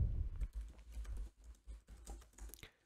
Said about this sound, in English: you want to type this into your browser